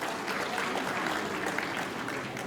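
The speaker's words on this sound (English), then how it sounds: "So let's give Attorney Dick a round of applause" A round of audience applause for a tax attorney at a climate resilience forum, a soft, distant, steady crowd clapping that holds evenly throughout.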